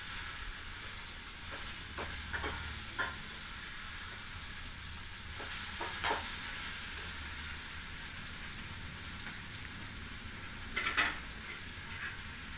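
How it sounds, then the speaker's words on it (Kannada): Brinjal (eggplant) frying in oil in a pan with no water added, for vangi bath: a steady soft sizzle under the whole stretch, with a few brief louder crackles and stirring clicks scattered through it. "ಹಾಗೆ ಎಣ್ಣೆಲೇ ಬದನೇಕಾಯಿ ಚೆನ್ನಾಗಿ ಫ್ರೈ ಆಗುತ್ತೆ"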